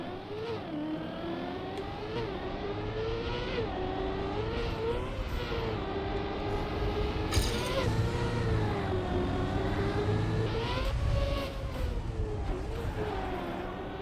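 A racing car in Trackmania drives on ice, its engine whine rising and falling steadily through gear changes and revs, with a few sharp bumps of the car flipping.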